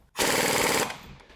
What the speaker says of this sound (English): So we'll take the impact gun here.